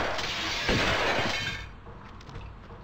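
Glass shatters loudly in Tomb Raider II's Opera House level in Italy, a sharp crash followed by a tinkling spray of fragments that fades out within about a second and a half, with no talking.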